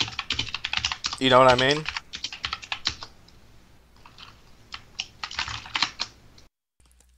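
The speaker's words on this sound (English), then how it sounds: "You hear the tickety-tackety-tacking of his fucking keyboard in the background?" Rapid clicking of typing on a computer keyboard runs through the background in uneven bursts, fairly close, while someone talks over it and a brief tonal sound rises near the start.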